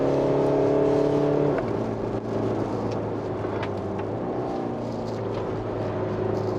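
A Mercedes GLC 220d diesel in sport mode on a typhoon-soaked wet road, heard as a steady engine drone that shifts pitch as it turns a corner, with no one speaking.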